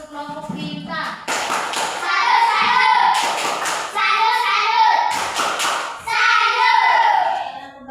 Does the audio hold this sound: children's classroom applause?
yes